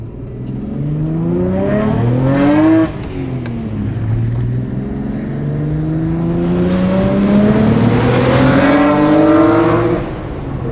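A Nissan Skyline R32 GT-R Group N race car drives on the road, its engine loud and close, revving up repeatedly with rising pitch between gear changes.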